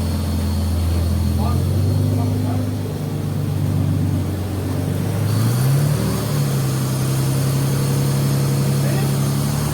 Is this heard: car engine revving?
yes